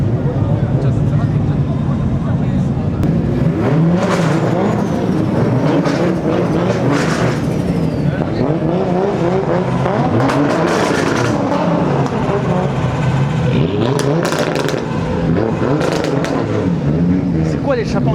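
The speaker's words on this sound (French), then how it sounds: "elle va rouler sur la route ouverte la voiture de D1 là" A new D1 drift car's engine and loud exhaust driving on an open road at a Japanese car meet, a continuous loud roar with shifting revs throughout, with voices talking over it.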